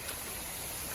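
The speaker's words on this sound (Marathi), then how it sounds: "वॉटरफॉल बघा आता आमचा छोटासा पण मस्त" A continuous rushing wash of falling water, even and unbroken, from a small natural waterfall heard close by.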